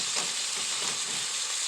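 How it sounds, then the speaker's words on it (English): Tomato beef with butter sizzles in a pan over high heat, a dense, steady frying hiss close by that fills the short moment without any voices. "This is my first time to cook this tomato beef with butter."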